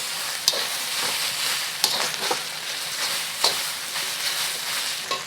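Garlic shrimp fried rice with egg tossed in a hot pan, a steady close sizzle broken by several sharp scrapes and clatters of the spatula, with no talk.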